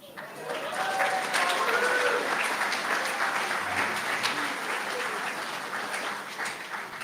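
Audience applause fills a fundraising event room after a $25,000 donation amount is announced, a sustained dense wash of clapping that holds steady for several seconds with faint voices underneath.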